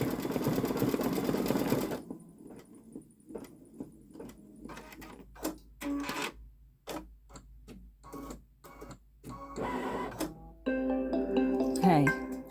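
A Babylock Solaris Vision embroidery machine stitches a design in a dense mechanical whirr that stops after about two seconds. Sparse clicks, taps and handling noises follow, with a little speech near the end.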